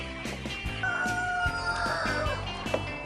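Chickens clucking and a rooster crowing on an egg farm: repeated close clucks in an irregular rhythm, with a drawn-out crow rising above them.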